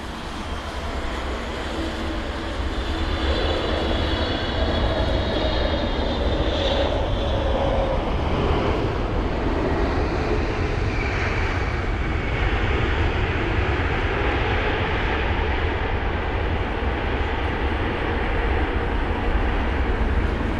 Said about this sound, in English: this would be Air Canada and their 777-300ER from Toronto